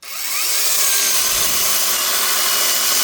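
A power saw cuts through birch wood, starting up and then holding a loud, harsh, continuous whine close by for a few seconds.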